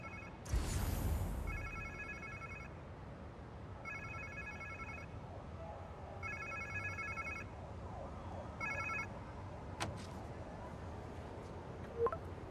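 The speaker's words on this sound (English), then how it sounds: "Sounds like somebody's phone." A cellphone rings in the Marvel's Spider-Man 2 video game, an electronic ringtone repeating in regular bursts at moderate volume over low ambient game background.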